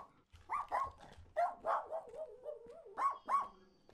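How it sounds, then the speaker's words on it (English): A dog barks and yips in a quick run of loud, close bursts, with a drawn-out whining tone partway through and no talking. "This dog's gonna bite me."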